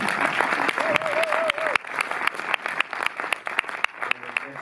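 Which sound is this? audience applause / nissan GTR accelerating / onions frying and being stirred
audience applause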